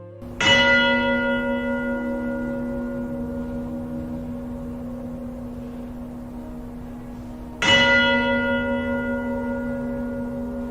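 Two strikes of a large church bell, each a loud clear tone with a long ringing decay that fills the gap, the second coming about seven seconds after the first.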